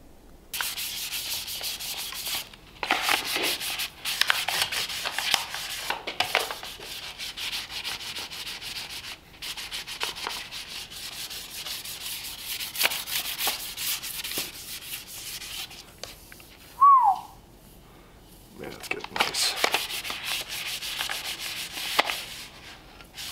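A Lucite steering wheel from a Lincoln V-12 is sanded by hand, making bursts of dry, scratchy rubbing strokes separated by short pauses, close and moderately loud, with no talking.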